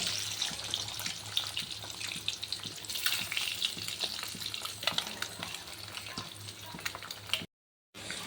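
Eggs frying in a hot pan for egg curry, a steady loud sizzle with faint stirring and scraping, ending in a brief dropout of silence, with no talking.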